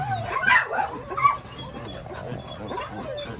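A dog whimpers and lets out a few high yips close by, short soft bursts early on that fade into quieter snuffly whines with little else around.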